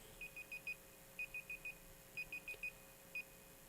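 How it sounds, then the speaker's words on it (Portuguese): A timer beeps in repeated groups of four short, evenly spaced high tones, then a single beep, faint against a steady background hum with no talking. "Aqui é o meu timer."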